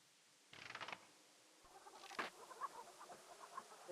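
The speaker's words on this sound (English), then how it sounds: "So we're going to feed the chickens." Chickens clucking in the King's Quest III Redux adventure game, two short bursts of clucking and squawking separated by a pause, with faint creaky background noise and no talk.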